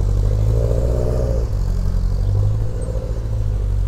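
Classic cars, among them a Triumph TR4A and a Triumph Spitfire, rolling in to a large car gathering in Andresy, with loud, steady engine rumble and a couple of revving swells close by, no voices.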